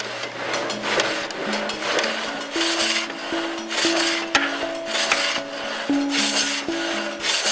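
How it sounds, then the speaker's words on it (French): A hydraulic sawmill saw rasps through a log in steady repeated strokes, each gritty rush of cutting noise rising and falling with a faint mechanical whine underneath. "Chaque mouvement descendant de la scie actionne le mécanisme et déplace le chariot de quelques millimètres"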